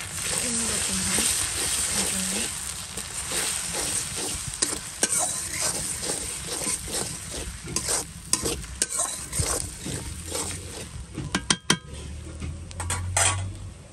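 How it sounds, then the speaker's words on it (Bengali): Ginger and garlic stir-fried in a curry pan: steady loud sizzling with repeated scraping and clinking of a spoon against the pan throughout. "একটু আদা রসুন দিয়ে দিচ্ছি। এটাকে ভালো করে ভেজে নিলে তরকারিটা স্বাদ"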